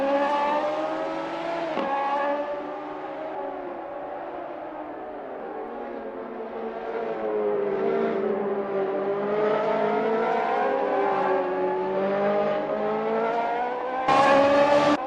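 Radical SR3 race cars at Donington Park in a sim racing game, engines droning and revving steadily with shifting pitch as cars run close together, and a sharper rise in noise near the end.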